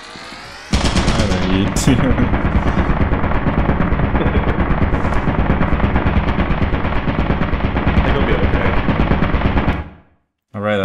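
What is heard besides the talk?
turret gunfire in a video game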